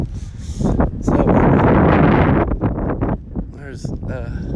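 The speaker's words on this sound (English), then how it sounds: "It's a little windy" Gusty wind buffeting the microphone in loud rushes while a person talks outdoors.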